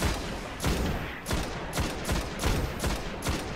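Bursts of automatic weapon fire from a first-person shooter's cooperative strike mission, rapid repeated volleys roughly every half second, loud and close with no talk over them.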